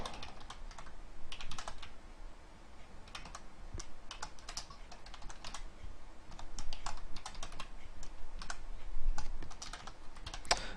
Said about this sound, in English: And you see I'm typing